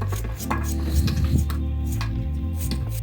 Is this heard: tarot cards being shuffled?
no